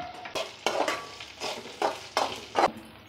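Curry leaves, onions, green chillies and lentils frying in oil for semiya upma, with a soft continuous sizzle broken by six or seven sharp spoon-stirring scrapes at a regular pace, close to the pan; no talking.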